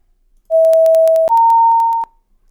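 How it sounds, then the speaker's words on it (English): A simple sine wave beep made in WaveCraft sounds as a steady pure tone that steps up in pitch partway through. It is loud and clean, with faint clicks, and lasts about one and a half seconds in silence. "again this very simple beep"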